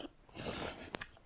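Someone takes a quick, close slurp of hot coffee: a short airy suck, then a couple of faint wet clicks. The sound is quiet and brief, with no talking.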